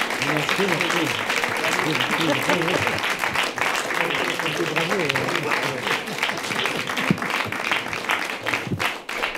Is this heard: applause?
yes